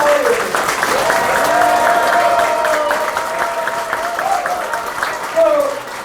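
Audience applause at a party members' meeting in Pohang Nam-gu and Ulleung, a steady wash of clapping from a packed room lasting the whole stretch, with a voice talking loudly over it.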